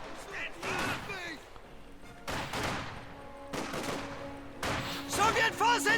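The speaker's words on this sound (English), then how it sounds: "Heavy machine gun fire again" Heavy machine gun fire rattles in sustained bursts during a Company of Heroes 2 battle, loud and close, with repeated volleys and crashes mixed among game voices and effects.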